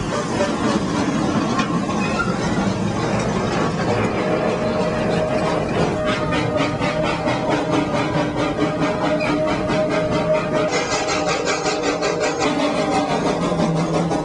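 A real steam locomotive on a private railroad starts off with the throttle opened and cylinder cocks venting, giving a steady hissing roar with a rapid pulsing chuff emerging partway through, fairly close.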